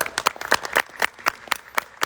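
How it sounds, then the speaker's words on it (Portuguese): A small group at a workshop applauds the mediator. The claps are distinct and rhythmic, coming roughly four to five per second. They sound close and fairly sparse rather than like a large crowd. "muito obrigado, Lívia, uma salva de palmas para ela."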